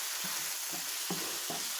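Sausages sizzle steadily in a frying pan while a utensil scrapes through them in four distinct strokes, a soft rhythmic scraping over a constant hiss of frying fat, with no voices.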